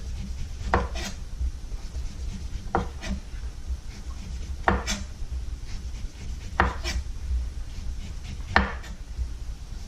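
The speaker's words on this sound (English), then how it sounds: "So we're going to peel the orange." An orange is peeled with a knife on a cutting board, giving five crisp, evenly spaced cutting strokes about two seconds apart over a low steady hum, close and fairly loud, with no voices.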